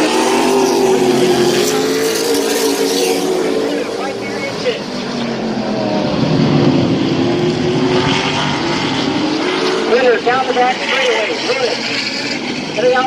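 Late model race cars roar around Midvale Speedway in a side-by-side battle, a loud sustained engine drone rising and falling as they pass, with a commentator talking over it throughout.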